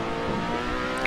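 The 3.5-litre, roughly 650-horsepower Lotus Exos 125 race car in Assetto Corsa holds a steady, buzzing engine tone for about a second, loud and close, with no talk.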